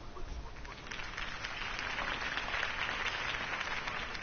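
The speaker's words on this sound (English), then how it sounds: "If only Mr. Wayne, my campaign's largest backer, could have heard that applause" Crowd applause in a Batman video game follows a campaign speech, a steady broad wash of clapping at moderate level that holds throughout without clear voices.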